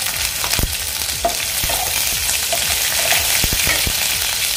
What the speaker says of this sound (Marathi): आता यामध्ये मी मिरच्या घालून घेते